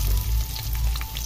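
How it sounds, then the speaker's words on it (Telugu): Onion pieces frying in hot oil with curry leaves and whole spices for a paneer masala curry, giving a loud, steady close-up sizzle and crackle with no voices. "ఉల్లిపాయ ముక్కలు వేగుతున్నాయి కదండి"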